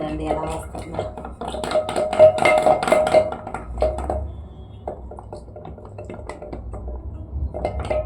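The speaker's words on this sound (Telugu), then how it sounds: "ఈ కవ్వంతో ఇలా తిప్పుకుంటూ 2 చేతులతోటి జిలుక్కోవాలి." A wooden churn stick twirled between two hands through yogurt in a pot to make buttermilk, giving rapid knocking, clinking and sloshing strokes that swell in a busy burst and then thin out to scattered taps, close and fairly loud.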